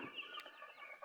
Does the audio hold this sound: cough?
no